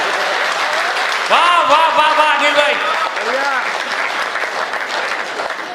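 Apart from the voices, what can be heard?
audience applause at poetry event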